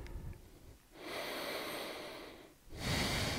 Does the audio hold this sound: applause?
no